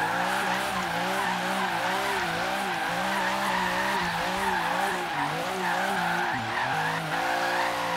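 Car drifting in Forza Horizon 3, with sustained tire squeal and skidding over a steady, loud engine drone that rises and falls in pitch for the whole stretch.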